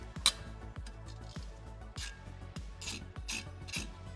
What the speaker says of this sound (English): Grab a T30 socket and loosen this up.